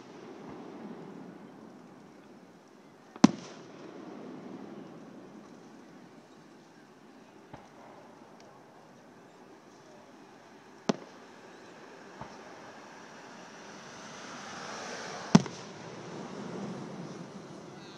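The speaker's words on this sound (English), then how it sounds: "Oh, I thought there was lightning in the background with the fireworks." Fireworks at Little York Lake go off as a few sharp, distant bangs spread over a low rumbling background of crowd and ambient noise, with some faint voices.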